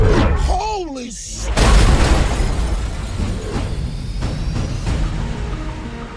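A bomb explosion from the film Fast & Furious 8 erupts with a heavy boom and lingering rumbling debris, preceded by brief voices and a whistling descent, the blast filling the scene and decaying over several seconds.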